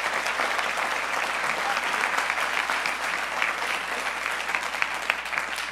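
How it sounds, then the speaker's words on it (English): A conference audience gives a sustained round of applause for a trustee, dense steady clapping from a large crowd that holds an even level throughout. "I'd also like a round of applause for John Doerr"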